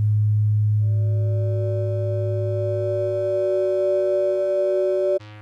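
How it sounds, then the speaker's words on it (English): Eurorack utility module used as a ring modulator, producing a steady buzzy tone whose upper harmonics shift partway through, ending in a brief abrupt change. "it works like a ring modulator."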